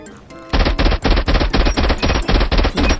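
Rifle fire in the mobile shooter Call of Duty Mobile, loud and close, a quick run of sharp evenly spaced shots after a brief quiet start, with no talking.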